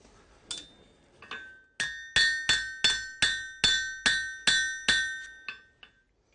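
A blacksmith hammers hot steel on an anvil to spread out a socket, giving a steady run of about ten loud, ringing metallic strikes, each decaying before the next, close and alone.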